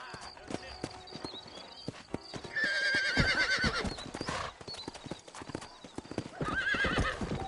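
Horse hooves clopping in a steady rhythm in Red Dead Redemption, rising into galloping with a couple of loud whinnies, with game ambience and a voice speaking.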